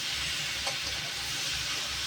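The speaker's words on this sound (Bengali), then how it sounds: "এই যে কত সুন্দর ভেজে ভেজে রান্না হচ্ছে" Egg and potato curry with cardamom pods fries steadily in a kadai, giving a continuous soft hiss and sizzle that stays even and close throughout with no voices.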